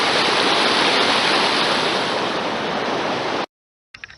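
Snowmelt runoff rushes down Table Mountain in June, a close, steady roar of running water that cuts off abruptly near the end, followed by a brief faint rustle.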